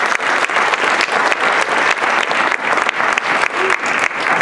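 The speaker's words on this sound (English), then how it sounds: "Let's please give a round of applause for our community representatives." A debate club audience claps steadily for community representatives, a dense and sustained round of applause from a room of people.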